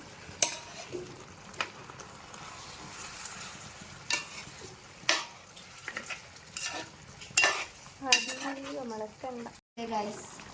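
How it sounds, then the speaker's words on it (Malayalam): Chicken curry cooking in a pot, with sharp clinks and scrapes of a spoon against metal over a low bubbling sizzle, close by, and a brief voice near the end. "നമ്മള് ചിക്കൻ ആയി നോക്കാം. തിളച്ചുകൊണ്ടിരിക്കുന്നതാണ്."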